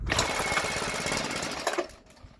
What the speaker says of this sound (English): we're gonna try to fire up the weed whacker again.